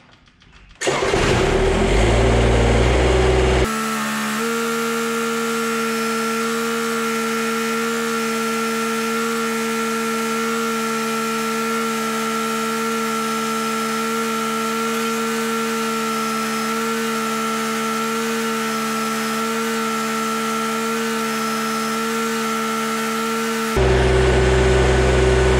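A Kubota BX compact tractor engine cranks, catches and runs at a loud steady idle for about twenty seconds, then picks up briefly near the end; no talking.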